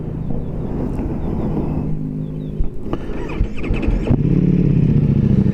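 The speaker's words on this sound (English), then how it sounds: "And that is the full exhaust you hear" A Ducati Multistrada V4 Pikes Peak motorcycle with a full exhaust rumbles at idle close by, then builds into a louder, deeper engine note as it pulls away.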